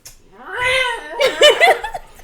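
A cat gives a loud, drawn-out wailing meow that rises into a warbling caterwaul, close and prominent with little else heard.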